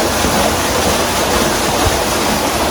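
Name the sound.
creek water running below a pump turbine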